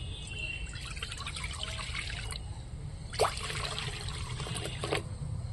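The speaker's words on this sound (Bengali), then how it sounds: "কড়ার মধ্যে কিছুটা জল দিয়ে দিচ্ছি" Water is poured into a wok on the stove, two short trickling splashes nearby over a steady low hum.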